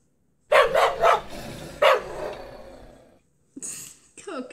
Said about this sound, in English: He's a barker